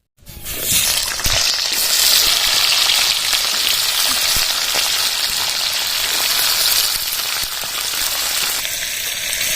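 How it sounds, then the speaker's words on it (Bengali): Potato pieces drop into hot mustard oil in a kadai and set off a loud, sudden sizzle that keeps up as a steady, dense crackle, with no voices. "টুকরো করে আলুগুলো এবার কড়াইতে ছেড়ে দেবো"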